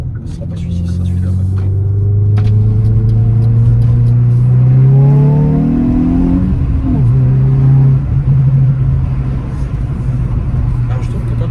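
A Hyundai i20N accelerates around a roundabout, its engine note rising steadily as the gears climb, with a shift partway through and a loud, close, continuous rumble from inside the car.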